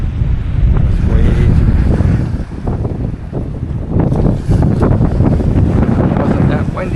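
Gusty wind at Bradenton blows hard across the microphone in loud, rumbling bursts during metal detecting, with a brief lull partway through and faint surf-like wash beneath.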